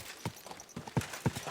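Horse hooves in the game Kingdom Come Deliverance 2, a few soft, evenly spaced clip-clop hoofbeats, faint and close, with no voices.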